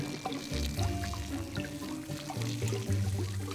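Watering plants in the Desperate Housewives video game: a continuous splashing pour of water, steady and close, with soft game music underneath.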